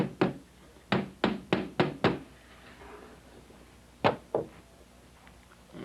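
A hammer drives a nail into window weather stripping: five quick, sharp knocks in a fast run, a pause, then two more solid taps, each striking near and crisp.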